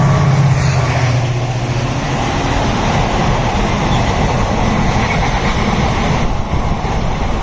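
The Matsya Ganga Express, an ICF-coach train hauled by a WDP diesel locomotive, passes at a crossing station as a continuous loud rumble and rolling rail noise, steady throughout with no talking.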